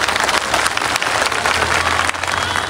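A crowd at a political rally in West Bengal claps loudly to welcome a new district president, giving a dense, steady wash of applause throughout.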